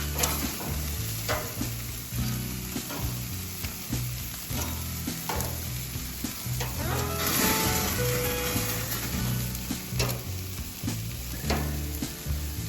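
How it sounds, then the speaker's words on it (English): Honey garlic sausages sizzling and crackling steadily on an outdoor barbecue grill during a blizzard, close and continuous with occasional pops and clicks of handling. "Now let's get those sausages turned over. Don't wanna burn them."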